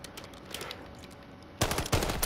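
Submachine gun fire in Call of Duty, a faint rapid rattle of shots at first, then loud close bursts of automatic fire near the end.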